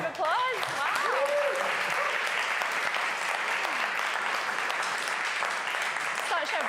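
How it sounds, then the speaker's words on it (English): A large audience at a marketing awards event breaks into steady, dense applause that fills the room throughout, with a few voices calling and whooping over the clapping. "Let's give them a round of applause."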